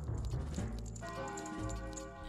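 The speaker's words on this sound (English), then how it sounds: "Yep, that sure is a bell." Bell in Zelda: Majora's Mask rings out in a quiet, sustained tone with a shimmering ring after a few soft clicks, modest in level and alone.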